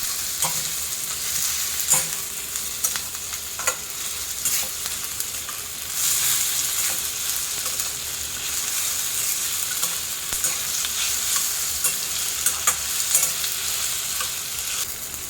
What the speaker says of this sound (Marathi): हे बघा आपला मसाला आता चांगला फ्राय झालेला आहे